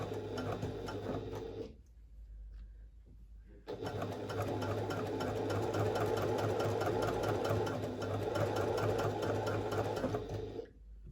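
A sewing machine runs a basting stitch in two long stretches of steady, fast mechanical whirring, with a short pause between them and the motor stopping at the end.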